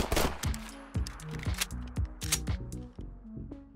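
A Walther PPK pistol in a Fallout 4 mod fires a rapid series of sharp shots, followed by the mechanical clicks and clacks of reloading, loud and close with no voices.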